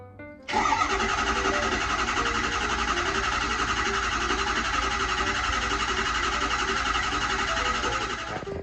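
A Ford Powerstroke diesel engine cranks over continuously for about eight seconds after a brief quiet start, a steady, loud, rapid churning with no clear catch.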